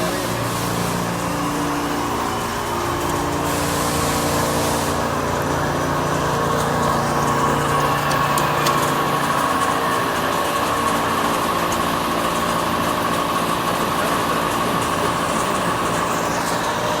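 A crankshaft cutting machine runs steadily inside a Volkswagen engine factory, giving a loud, continuous mechanical drone with layered hum and whine and a brief hiss burst early on, set against constant industrial background noise.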